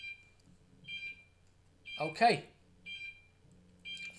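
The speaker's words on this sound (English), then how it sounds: "That's my burglar alarm" A home burglar alarm repeats short electronic beeps about once a second, moderately loud, with a voice speaking briefly over it in the middle.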